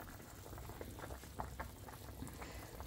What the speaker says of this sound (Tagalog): Kulo-kulo to the max na siya.